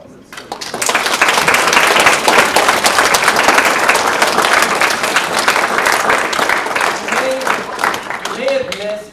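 Loud, dense applause from a middle school audience at a presentation on bullying by a boy scout, sustained clapping that rises quickly, holds for several seconds, then thins as a voice begins speaking near the end.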